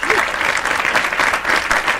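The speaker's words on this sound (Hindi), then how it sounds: "तालियां बजनी चाहिए देश के जबलपुर की, माफ़ कीजिए, प्रथम नागरिक पर।" An audience at an evening event honoring martyrs breaks into sustained, dense applause for the city's mayor, a loud continuous wash of many hands clapping, with a voice faintly audible underneath.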